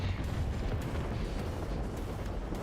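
Explosive shell fired in War Thunder, the tank battle game, with the SPz Marder A1 infantry fighting vehicle in play: a dense, continuous rumbling roar of battle with booming weight, loud and steady throughout.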